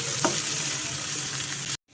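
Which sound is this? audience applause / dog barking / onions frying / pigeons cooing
onions frying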